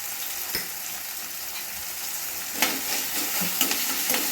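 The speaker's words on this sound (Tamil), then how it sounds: "இஞ்சி பூண்டோட பச்சை வாசனை போகிற அளவுக்கு ஒரு நிமிஷம் வதக்கிட்டு" Ginger garlic paste sautéing in a pan while making kothu parotta, a steady broadband frying sizzle with stirring scrapes and a few louder clatters near the end, no voices.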